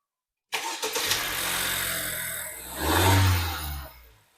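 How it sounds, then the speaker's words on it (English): A Honda Civic, just back together after intake work, cranks after a brief silence and catches, settling into a steady idle before one loud rev swells and fades back down, close-miked with no talking. "Let's turn on the car."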